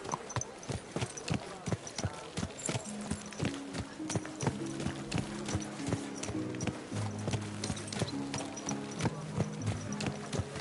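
Horse hooves clip-clopping on hard ground as the horse is ridden: a steady, loud rhythm of close hoofbeats throughout, with a musical tone underneath.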